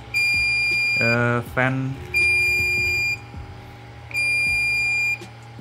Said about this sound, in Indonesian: error bip-bip tadi itu ternyata ini ada sensor filamennya